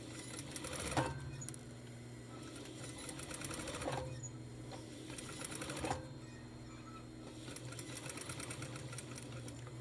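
A sewing machine runs steadily, stitching fabric for a throw pillow, its rapid mechanical whir and needle clatter continuing without pause at close range.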